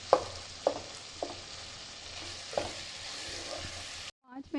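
Chicken keema with tomatoes sizzles steadily in a pan while a spoon scrapes and stirs in a few distinct knocks, the frying hiss constant underneath before it cuts out abruptly near the end.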